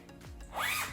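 An invisible zipper on a pencil skirt is pulled in one quick rasping zip that rises and fades within a second, close and clear, with no talking.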